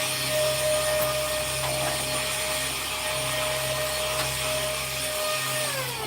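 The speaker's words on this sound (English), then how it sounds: "I will not recommend this vacuum." A mini vacuum cleaner runs continuously and close by, giving a loud, steady motor whine with a constant tonal hum that holds throughout and shifts slightly in pitch near the end.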